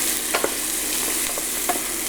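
Beef brisket ragù sizzles steadily in a pan over medium heat, a dense constant fry hiss with a few soft scrapes of stirring, close and without voices.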